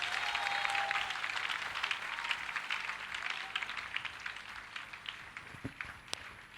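Loud applause from a church congregation acclaiming the Lord, a dense, sustained wash of many clapping hands that rises early on, then thins slightly, with a few sharper claps near the end.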